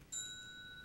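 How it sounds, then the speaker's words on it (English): A single bell chime marking the end of a round at a political debate event rings out clearly and sustains with a bright ringing tone that slowly fades, with no voices. "At the end of each round, there'll be a buzzer or a bell"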